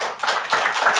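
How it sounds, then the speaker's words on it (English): Audience applause for a speaker at a presentation, a brief burst of close, sharp hand claps in an uneven patter with no voices over it. "Can we please give Michael a round of applause?"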